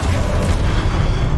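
A Confringo spell explosion in Hogwarts Legacy, a loud, dense, low rumbling boom that stays heavy and sustained through the short moment.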